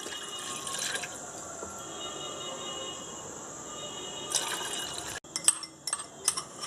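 Two tumblers of water poured into a cooking vessel for a home-made herbal tea, a quiet steady trickling stream with brief louder splashes, ending in several clinks and knocks.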